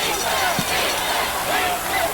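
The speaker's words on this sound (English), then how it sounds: "Here comes the crowd again." Crowd noise at a 1988 WPIAL AAAA high school football playoff game between Central Catholic and North Hills, a steady roar of cheering spectators filling the whole stretch with a brief thump partway through.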